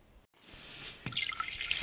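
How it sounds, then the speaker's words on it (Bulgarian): Water pours into a cooking pot, starting as a thin trickle and then turning into a brighter, splashing stream for the last second, close and fairly quiet. "Първо слагаме водата в тенджерата."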